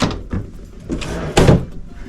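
A cabin drawer aboard the Utopia of the Seas cruise ship slides open and shut, giving several close wooden knocks and scrapes, with the loudest clunk near the end.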